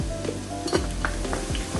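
Onions fry in a pan for Bangladeshi beef tehari, giving a steady quiet sizzle broken by a spoon or spatula stirring and scraping, with occasional metallic clinks against the pan.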